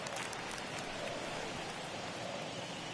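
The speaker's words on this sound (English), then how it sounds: "the rain starting to intensify here. It's coming down a little heavier now" Rain pours over a baseball stadium in MLB The Show 21, a faint, steady hiss of falling drops with no talking.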